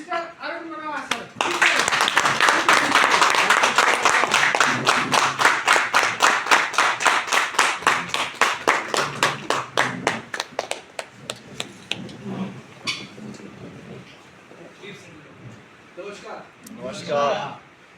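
An audience at a training program in Dharamshala gives a standing ovation: dense clapping swells quickly, then thins into a ragged run of separate claps that fades out, with voices talking over the tail end.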